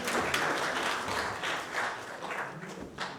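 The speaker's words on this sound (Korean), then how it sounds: "대구 사례 박수로 들어보도록 하겠습니다." Seminar audience applauding in a hall before a regional broadcaster's journalist presents, a dense even clatter of clapping that swells and dips slightly over a few seconds.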